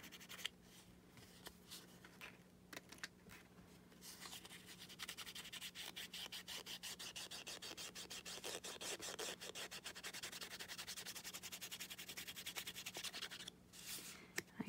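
A small makeup applicator rubs ink along a paper edge in quick repeated strokes, a faint, close, dry brushing scratch that comes in steady bursts with short pauses.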